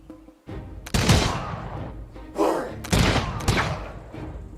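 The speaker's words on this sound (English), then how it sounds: "Shoots with the guns." Bursts of gunfire from troops in the strategy game Humankind, several loud volleys and rattling shots in quick succession with a thud or two between, fairly close and dense.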